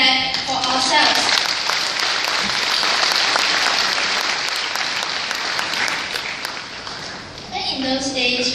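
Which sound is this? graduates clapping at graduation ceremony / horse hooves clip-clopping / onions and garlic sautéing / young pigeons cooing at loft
graduates clapping at graduation ceremony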